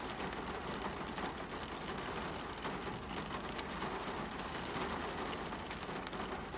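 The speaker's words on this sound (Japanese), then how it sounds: "でも雨がね、今日は長崎やばいですね。" Heavy rain pours steadily in Nagasaki, a dense, even hiss of drops on surfaces with no breaks, close and moderately loud, with no voices.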